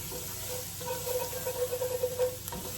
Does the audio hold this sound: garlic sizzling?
yes